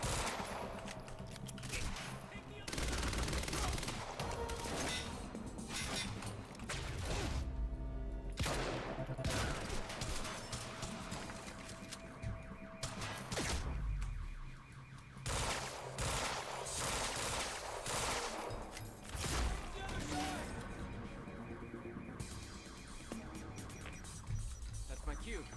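Heavy gunfire fills a Quantum Break firefight, loud and nearly continuous with overlapping automatic bursts and rattling shots, broken by short lulls, while voices shout faintly underneath.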